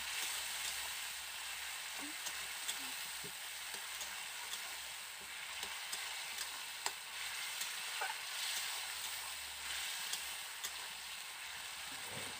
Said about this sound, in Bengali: জল দিয়ে আমি আবারও ভালো করে কষিয়ে নিচ্ছি।